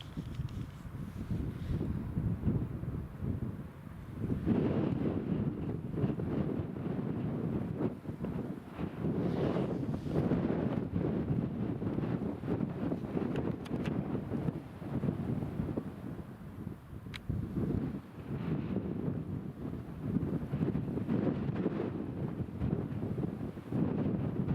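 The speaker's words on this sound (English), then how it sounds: "it's a little bit breezy" Steady breezy wind at Newcastle International Airport runway, buffeting and rumbling across the microphone in continuous gusts, loud and close, with no talk.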